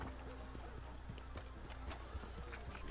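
Horse hooves clip-clop through mud in the video game Red Dead Redemption 2, a fairly quick uneven rhythm of soft thuds under game ambience, faint and close.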